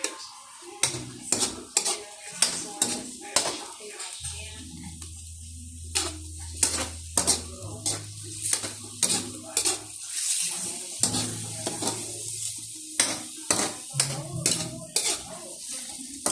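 Upo (bottle gourd) is stirred and scraped in a frying pan while soy sauce and oyster sauce are added, giving repeated close spatula clinks and scrapes over a steady sizzle, with a low hum in parts.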